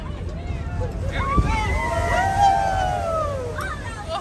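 An amphibious tour boat in Boston entering the water, a rumbling surge of sloshing water and wind under a steady engine drone, with excited voices calling out over it.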